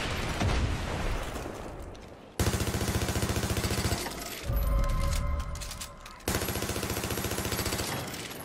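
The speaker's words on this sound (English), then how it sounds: "She threw a grenade at me." A grenade goes off in Far Cry 5 amid rapid machine-gun fire, with loud bursts cutting in sharply and decaying, several blasts over a few seconds.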